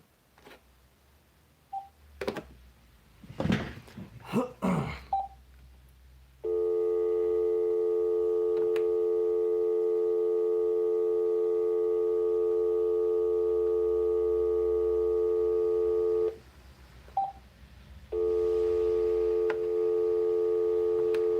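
A phone call being placed: a few short clicks and beeps give way to a long, steady electronic tone that stops briefly and then starts again. The tone is loud and close, with no talking.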